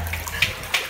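Water runs steadily from a crack in a tunnel, a close, continuous splashing trickle with a couple of brighter drips standing out, and no talking over it.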